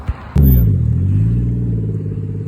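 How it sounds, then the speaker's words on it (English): A car engine at a car show bursts into a loud rev after a brief knock, then settles into a deep, rumbling idle that lingers close by. "We're probably gonna end with a rev"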